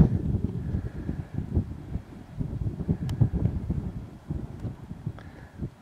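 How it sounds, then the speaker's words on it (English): Breezy wind buffets the microphone on a countryside walk overlooking a reservoir and dam, a continuous rumbling roar with gusty swells close up and no voice. "A bit breezy at the moment, so I hope you can hear me."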